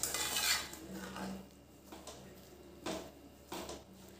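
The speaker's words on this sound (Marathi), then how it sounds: "आता एकदा हलवूया आणि मग शापूची भाजी शिजत ठेवूया आपण" A spoon scrapes and clinks against a pan while shepu (dill) greens with mung dal are stirred on the stove. The sound comes in a few separate strokes with quiet gaps between them and is close by but soft.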